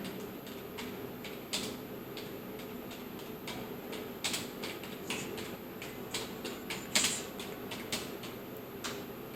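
Quiet, steady typing on a computer keyboard enters a narration into Tally Prime accounting software, with a string of soft key clicks and occasional louder taps and no speech.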